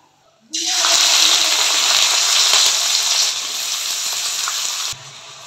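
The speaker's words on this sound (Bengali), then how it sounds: "তেল গরম হয়ে গেছে। এবার এগুলো তেলে দিয়ে দেব।" Dried shidol fish dropped into hot oil, an abrupt loud hiss that bursts in and holds steady for several seconds, easing slightly before cutting off, close and alone.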